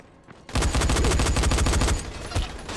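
Rapid automatic gunfire in the zombie game Dying Light breaks out after a quiet moment, a loud, fast string of shots that holds steady for about a second and a half before easing into scattered bursts.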